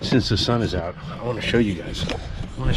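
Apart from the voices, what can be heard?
None of the usual background noises is heard.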